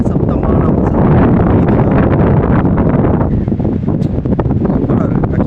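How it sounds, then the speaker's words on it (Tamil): Strong stormy wind buffets the microphone at a beach at Besant Nagar during a cyclone, with the roar of sea waves beneath it, loud and continuous throughout. "அடிக்கிற காற்று, கடல் அலை சத்தம்"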